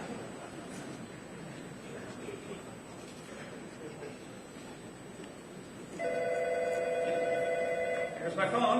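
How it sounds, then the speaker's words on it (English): A Sprint PCS mobile phone rings with an incoming call. A steady electronic ringtone cuts in loudly partway through, after a stretch of muffled room noise, and keeps ringing to the end. "I'm going to call you right now using this Sprint PCS phone"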